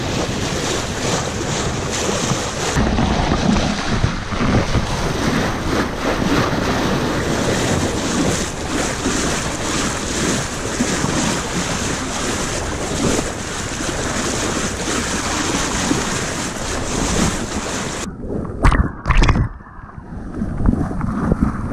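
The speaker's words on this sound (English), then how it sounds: "Tired to listen to all that racket from the engine, and the wind" Loud, continuous wind buffeting the microphone with a rumbling engine and rushing water beneath from a Dana 24 sailboat off Newport Beach, cutting out abruptly near the end.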